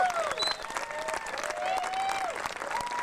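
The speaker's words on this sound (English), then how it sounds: "A round of applause for our top five male riders at the Grundig UCI World Cup." Crowd applause for the top male riders at a Grundig UCI World Cup downhill mountain bike event, fairly quiet and distant, with clapping under whistles, cheers and shouting voices.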